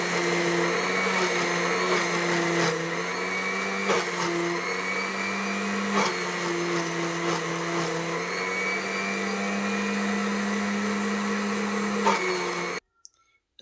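A blender whirs steadily through a thick white sauce, a loud sustained motor drone with slight pitch dips as it works the mixture, then cuts off abruptly near the end.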